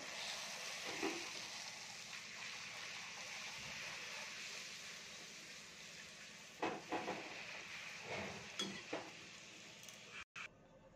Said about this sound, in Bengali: খুব সুন্দর ফুলকো ফুলকো লুচি হচ্ছে।